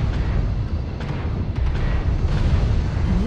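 Missile explosions hitting a mech in MechWarrior Online, a continuous heavy rumble of overlapping booms and low impacts, loud and dense throughout.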